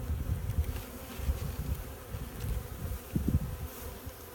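Honeybees from a small, calm colony buzz around an open hive, a steady close drone with individual bees droning louder as they pass near.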